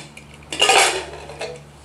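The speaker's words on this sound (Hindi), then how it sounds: "अब हम अपना कुकर खोलते हैं" Someone opens the lid of a pressure cooker after cooking potatoes: a close, loud metallic clatter and scrape, then a softer clink, in a quiet kitchen with no talking.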